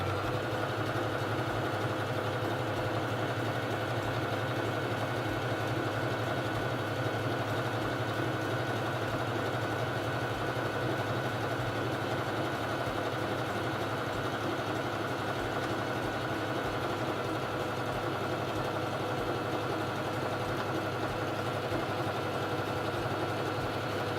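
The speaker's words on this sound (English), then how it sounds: "it's time to sew the feather stitch" A Singer Fashion Mate 3333 sewing machine running a feather stitch, a steady, even motor whir and rapid needle hum that stays constant and fairly loud for the whole stretch, with no talking.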